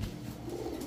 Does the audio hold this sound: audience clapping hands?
no